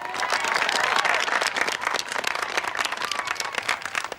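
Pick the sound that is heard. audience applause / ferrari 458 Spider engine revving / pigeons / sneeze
audience applause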